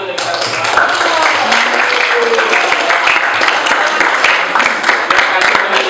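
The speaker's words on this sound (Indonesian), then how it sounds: "mungkin bisa beri tepuk tangan dulu untuk kita semua" Students in a class clapping together at the end of a lesson, a dense, continuous patter of close hand claps that lasts the whole stretch with voices mixed in.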